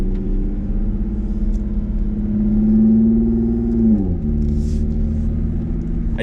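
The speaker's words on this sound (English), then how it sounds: "Ooh, let's start her up." An Audi S4 engine in sport mode, heard close and steady, swells in a rising rev, then drops back to a lower running note. No one speaks.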